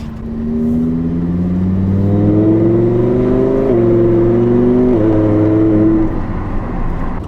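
A Lamborghini engine revs up and down in several rising and falling sweeps, loud and close, with no voices.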